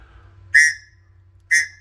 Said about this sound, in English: Here's this whistle. Let's try it.